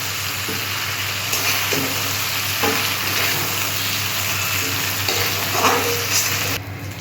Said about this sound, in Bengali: মাছটা ভাজা হয়ে গেছে, আমি লাল লাল করে ভেজে নিয়েছি